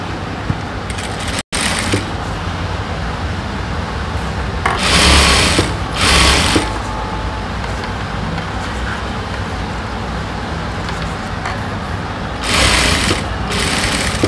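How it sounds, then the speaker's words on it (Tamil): A sewing machine stitches a blouse with a loud, continuous motor whir close up, running steadily with a few brief stops and surges. "இப்போ மடித்து தச்சுக்கலாம்"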